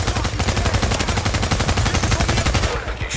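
Sustained automatic gunfire in the video game Tom Clancy's The Division, loud and close, a rapid, steady rattle of shots continuing for about three seconds before cutting off, with no talk over it.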